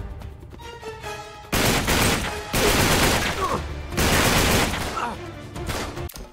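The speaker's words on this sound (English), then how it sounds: "Damn, this gun's loud." Loud bursts of automatic gunfire in the video game Uncharted 3: Drake's Deception, played on PS5. Long rattling volleys come in several waves, separated by brief pauses, with no talking.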